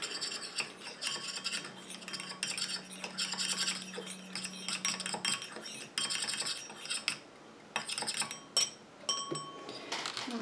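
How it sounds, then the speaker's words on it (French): Homemade lipstick mixture stirred in a small container, quiet repeated clinks and scrapes of a metal utensil against the dish, with a faint hum partway through and no voices. "Bien mélanger."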